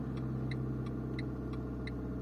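A car engine idling steadily with low, constant rumble as the driver touches the gas during a parking lesson, alongside a faint regular ticking, like an indicator, throughout.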